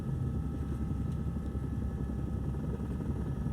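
A low, steady rotor drone hums throughout, the rumbling thrum of a helicopter heard from inside, constant and moderately loud.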